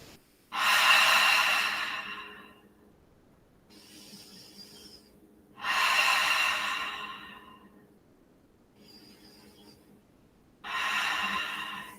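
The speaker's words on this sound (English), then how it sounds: "Breathing." Slow, deep breaths during a yoga session, three long airy exhalations of about two seconds each, separated by quiet pauses, close and soft with no talking.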